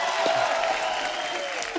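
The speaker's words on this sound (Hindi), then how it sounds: "एक बार जोरदार तालियां द फेम गेम की पूरी स्टार कास्ट के लिए।" A studio audience on The Kapil Sharma Show claps loudly for The Fame Game star cast, a dense burst of applause lasting under two seconds, with a tonal hum running beneath.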